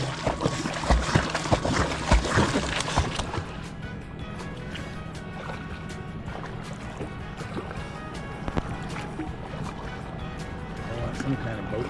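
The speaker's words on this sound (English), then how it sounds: "Some kind of boat. Big boat. Giving me waves." Waves from a big passing boat slosh and splash loudly on the Columbia River at first, then settle into softer lapping water with a low background hum.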